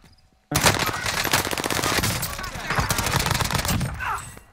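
Sustained automatic gunfire in Call of Duty: Warzone, a dense loud rattle of rapid shots after a brief quiet start, continuing nearly unbroken with overlapping bursts from more than one direction.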